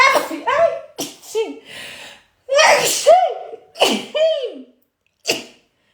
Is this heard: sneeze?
yes